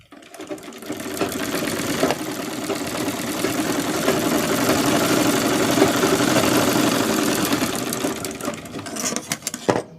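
Sewing machine running steadily while stitching, a continuous mechanical whir with rapid needle rhythm that starts and stops, fairly loud and close, no talking.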